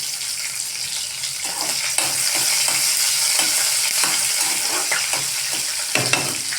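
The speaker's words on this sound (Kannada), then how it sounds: "ಈಗ ಅದಕ್ಕೆ ಕಟ್ ಮಾಡಿ ಇಟ್ಕೊಂಡಂಥ ಹಸಿಮೆಣ್ಸಿಕಾಯನ್ನು ಹಾಕ್ಕೋಬೇಕು. ಅದಕ್ಕೆ ಸರಿಯಾಗಿ ಕಾಯಿಸ್ಕೊಡ್ರಿ." Chopped green chillies frying in a hot pan, a steady close sizzle broken by repeated scraping stirs of a spoon against the metal, with no voices.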